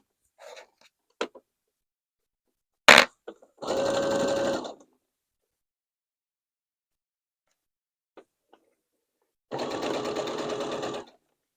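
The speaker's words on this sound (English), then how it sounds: "I'm just gonna back tack and then top stitch all around." A sewing machine back tacks and top stitches a fabric wine bag: two sustained close runs of rapid mechanical stitching, about a second and nearly two seconds long, separated by near silence, with a few short handling clicks and rustles.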